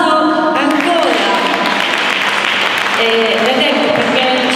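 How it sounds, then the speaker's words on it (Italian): Audience at an Italian solidarity awards ceremony in Rome applauding a doctor and writer, a loud sustained wash of clapping with music or voices tonal in the background. "applauso ancora"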